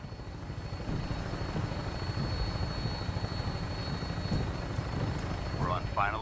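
A vertibird aircraft flies in the Fallout 4 video game, a steady, loud rotor drone with a pulsing chop that carries throughout, a brief voice-like chirp near the end.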